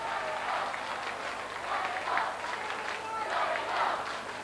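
A stadium crowd at the 1987 All-Ireland Under-21 Gaelic football final replay between Donegal and Kerry applauds a substituted player, producing dense, distant clapping that swells and ebbs in waves.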